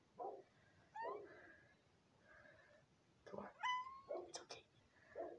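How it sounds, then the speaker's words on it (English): A cat meows repeatedly nearby, a series of short and drawn-out cries, some rising and wavering, with quiet pauses between them. "Get a close look on this cat."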